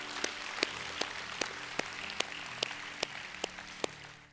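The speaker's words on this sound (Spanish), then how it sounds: "¿Podemos dar un aplauso para los que tomaron esa decisión?" A church congregation applauds. Evenly spaced hand claps stand out over a soft, steady wash of clapping, fairly faint and distant.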